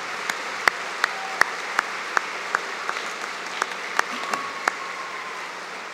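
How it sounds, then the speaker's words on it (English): At a spring convocation ceremony, faint, isolated claps sound at a slow, fairly even pace after a jazz band's afternoon performance, roughly a dozen separate hits over a low steady room hum. "Please join me in a big round of applause for their musical performance this afternoon"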